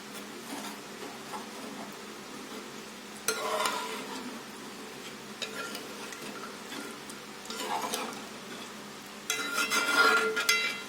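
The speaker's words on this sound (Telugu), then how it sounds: "మీకు ఎంత కావాలో అంత పోసుకోండి చింతపండు పులుసు. ఒకసారి కలుపుకుందాము." Tamarind juice being stirred into fish curry in a pan, a soft simmer broken by three bursts of stirring scrapes and clicks, close and moderately loud, no talking.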